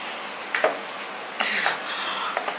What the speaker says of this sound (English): these ones I'm going to chop a little bit more neatly, just into some nice potato